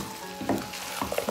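Beef fry with roasted, powdered garam masala being stirred in a pan in a Kerala-style kitchen, a few soft scraping stirs over a light sizzle, close and fairly quiet.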